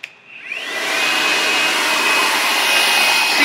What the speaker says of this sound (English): I will then go in with my blow dryer